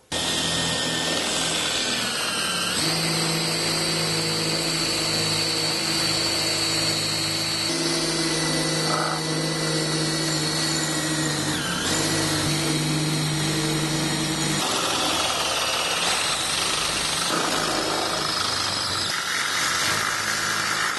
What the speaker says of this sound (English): we've went ahead and drilled our holes in the A-pillar